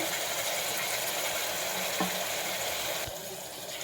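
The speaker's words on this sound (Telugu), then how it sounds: "ఆయిల్ వేడెక్కిన తర్వాత మనం ఆనియన్స్ వేసుకుందామండి" Onions sizzle in hot oil, a close, steady frying hiss with a faint stir or clink partway through. The sizzle drops slightly near the end.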